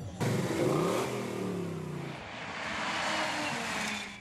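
Race car engines revving loudly at Auto Club Speedway, a dense roaring drone with rising and falling tones from several cars, close and sustained throughout.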